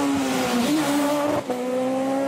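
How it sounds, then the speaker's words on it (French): Citroën Saxo rally car at the Rallye des Cévennes, its engine note loud and close with a sustained revving tone that dips briefly mid-pass, with no talk over it. "Alors qu'on voit actuellement Gaylor Millet qui finit 20e sur sa Citroën Saxo"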